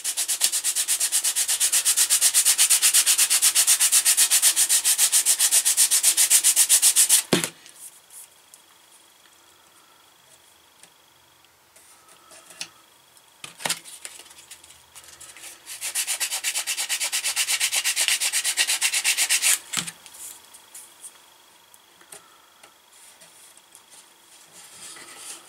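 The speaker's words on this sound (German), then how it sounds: "Der Rest wird dann geschliffen." Sanding a part for a Hachette Scharnhorst model ship: a loud steady rasping stroke for about seven seconds, a pause with faint scattered scrapes and taps, then a second long sanding pass near the end.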